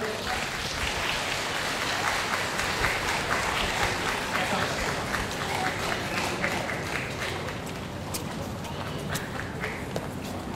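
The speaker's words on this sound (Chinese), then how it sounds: "掌声欢迎他们" Sustained, dense applause from a Christmas carnival audience welcoming a youth jazz band to the stage, steady and full throughout with a faint murmur of voices mixed in.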